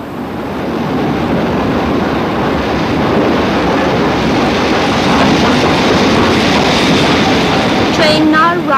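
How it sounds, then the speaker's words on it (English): A train rumbles and rattles steadily as it rolls into a platform at York station, with clattering wheels, a faint screech near the end, and indistinct voices around. "Train now arriving at platform 14"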